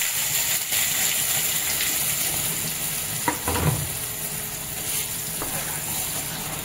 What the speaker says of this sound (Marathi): आता हे वाटण सगळं आपण मस्तपैकी तेलात टाकून